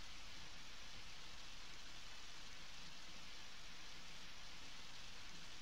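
Steady rain ambience in the video game Undertale, a soft continuous hiss of falling rain running evenly throughout with no other sounds.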